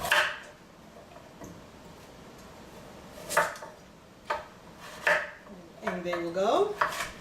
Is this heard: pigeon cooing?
no